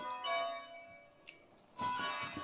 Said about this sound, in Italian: che casino ste campane